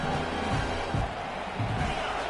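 Stadium crowd roaring in an EA college football video game, a steady dense wall of cheering with swells, Nebraska at Michigan on a big third down.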